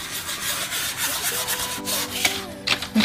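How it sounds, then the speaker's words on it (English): Scrubbing inside a drawer that is messy from food, a steady close rubbing and brushing texture against wood with a few sharper scrapes near the end, no voices. "So I'm just gonna give this a little scrub down"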